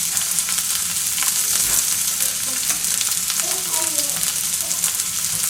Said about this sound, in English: First we're gonna fry these onions a bit.